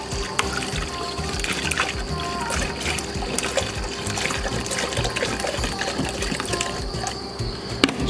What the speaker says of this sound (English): we start filling up with water.